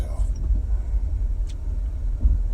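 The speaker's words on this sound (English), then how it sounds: "Jesus, traffic is bad as hell." Road traffic makes a steady low rumble of passing cars, continuous and close, with a voice talking over it.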